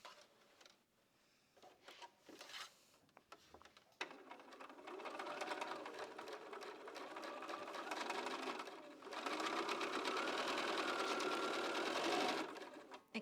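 A sewing machine runs steadily as it stitches a quilt seam, stopping briefly between bursts before settling into a long, continuous whir near the microphone.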